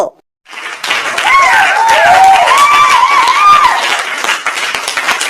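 Sustained applause and clapping from a cartoon crowd, loud and continuous after a short silent gap, with whistly, cheering tones riding over the clapping throughout.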